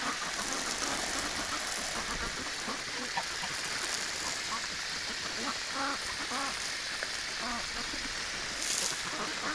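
Ducks and geese on wintering water give repeated nasal quacks and honks in a steady, busy stream, close and fairly loud, with a person talking over them.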